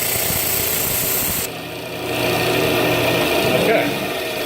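A Flatmaster drum sander runs a pass over a wood board, a steady mechanical whir that drops partway through and then picks back up, while someone speaks over it.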